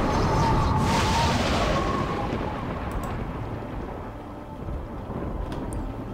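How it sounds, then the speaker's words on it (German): Thunder from a lightning storm spell in the Knightshift strategy game: a loud rumbling crash that rolls on and slowly settles into a dense, noisy roar lasting several seconds, with a few faint crackles. "Ich mach mal einen Blitzsturm,"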